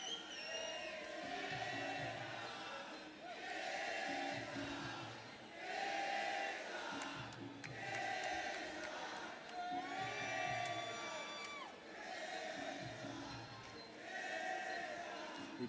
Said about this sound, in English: You can hear the crowd chanting Kieran's nickname, Kizza